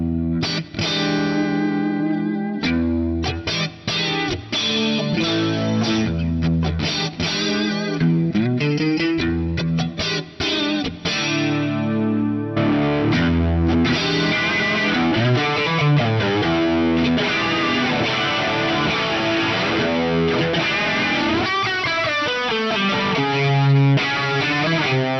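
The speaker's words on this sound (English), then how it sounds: "let's crack the ADA flanger model in here" Electric guitar played on the neck and middle pickup position through an ADA flanger model on a Fractal FM3 MK2 Turbo, giving a sweeping, swirling distorted tone over sustained chords and runs, loud and continuous with no talking.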